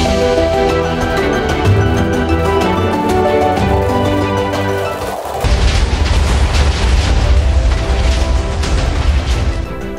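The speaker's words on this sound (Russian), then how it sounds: "Это еще хорошо, то что я додумался использовать взрыв не рядом со своей базой." Magic spell explosion in the medieval fantasy RPG Minecraft modpack with Ars Nouveau, heard as a loud sustained roaring rumble with dense crackling bursts that deepens into a heavier booming blast halfway through, continuous and close.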